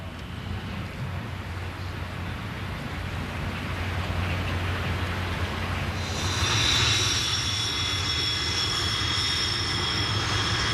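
A Sukhoi Su-17M4, a Soviet ground-attack fighter-bomber of the 1970s and 80s, gives off a steady jet-engine rumble that swells midway, adding a sharper high whine as it grows louder.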